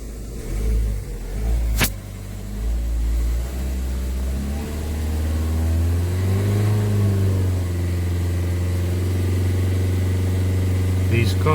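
A 2017 Peugeot 3008 diesel engine with a blocked particulate filter idles steadily, then revs to about 3,000 rpm and holds at a higher pitch, a steady mechanical drone close by with a brief click early on.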